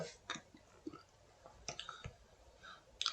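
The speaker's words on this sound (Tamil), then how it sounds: "ஃபர்ஸ்ட் ஐக்கன் கிளிக் பண்ணிக்கோங்க" Computer mouse clicks on a desktop icon, a handful of faint, sharp, irregular clicks over quiet room noise.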